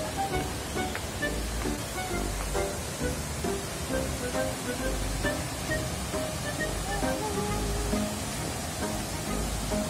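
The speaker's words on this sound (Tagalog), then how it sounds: "Nasa falls na kami." A waterfall roars in a steady, broad rush of falling water, loud and close, with faint voices talking underneath.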